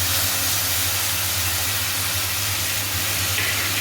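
Rice in a pot starting to boil, giving a steady, loud steamy hiss with a low bubbling rumble that runs unbroken throughout, with no one speaking.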